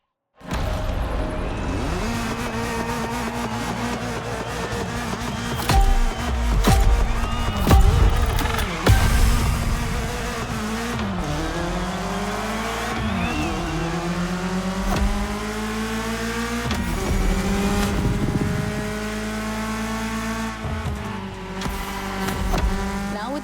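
A BMW M3 races in The Crew Motorfest, its engine revving hard and climbing through the gears, with rising and falling pitch sweeps and brief tire squeals, loud and continuous throughout.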